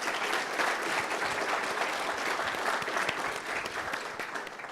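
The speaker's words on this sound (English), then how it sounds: "So please give everyone here a round of applause." Conference audience at an Elixir developer event applauding, a dense, sustained burst of clapping from a large crowd that tapers slightly toward the end.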